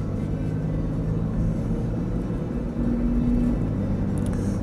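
A Jeep Grand Cherokee 4.0 Limited pulls away and accelerates, giving a steady, close engine rumble from inside the cabin that rises slightly partway through, with a faint whine over it and no talking.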